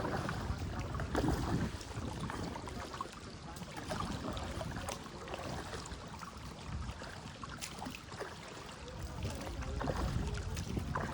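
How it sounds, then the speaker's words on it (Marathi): Steady broadband wash of wind and water on a kayak trip off the Konkan coast near Malvan, with a low rumble that could be a large boat approaching, continuous and fairly loud with wind buffeting the microphone. "समोरून मोठी बोट येते."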